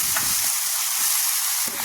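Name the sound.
stirring semolina in hot pan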